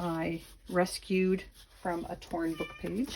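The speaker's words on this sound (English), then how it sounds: "sorry if you hear my cat screaming at me in the background" A cat yowls insistently in the background, several drawn-out meows mixed in with someone speaking close to the microphone.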